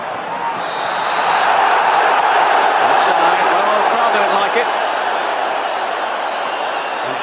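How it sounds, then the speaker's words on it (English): A stadium football crowd at a 1992-93 Lazio v Fiorentina match reacts to an offside call. The broad crowd roar swells early and stays loud and steady, with a voice talking over it. "Offside, well, the crowd don't like it."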